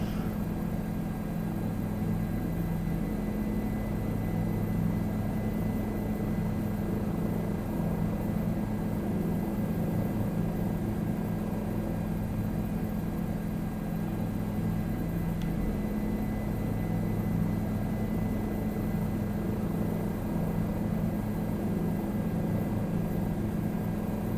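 Helicopter noise fills the cabin, a steady droning rotor and engine hum with no voices, flying over open country between Queanbeyan and Bombala, Australia.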